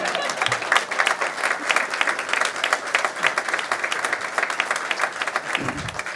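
An audience at the inauguration of the Infosys Hartford Tech and Innovation Hub applauds with steady, dense clapping that runs for several seconds before a voice briefly returns near the end.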